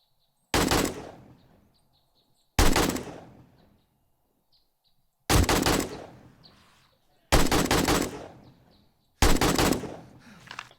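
Five loud gunshots from a long-range weapon in the video game 7 Days to Die, each a sharp close crack with a short decaying tail, spaced roughly two seconds apart against near silence.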